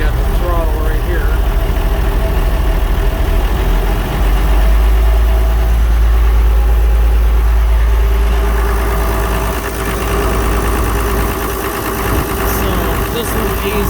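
An old tractor engine idles steadily and loud throughout, a low rumbling drone with a slight dip late on as the throttle is worked, with someone talking over it.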